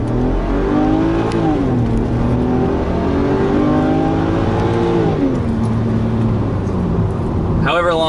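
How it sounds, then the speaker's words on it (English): A custom-tuned car pulls away hard from a red light in its regular drive mode. The engine drones loudly from inside the cabin and climbs in pitch through a couple of gear changes, with a brief burst of wind or road noise at the end. "Alright, we are at a red light and we are taking off."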